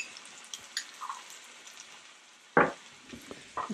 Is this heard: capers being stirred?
yes